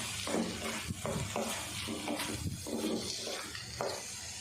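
Peanuts being roasted in carrot halwa in a pan, with a steady sizzle broken by repeated scraping stirs, close and moderately loud, without speech.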